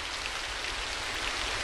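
Steady, even rain pours as a sound effect in a Malay radio mystery drama, a dense continuous hiss with no gaps and no voices over it.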